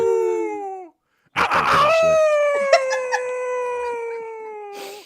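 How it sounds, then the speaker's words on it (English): A synthesized ghostly howl from sound-effect software rises in long, loud tonal wails with a brief gap and a harsh burst, sustained and sliding in pitch, close and alone. "Here's a ghostly howl."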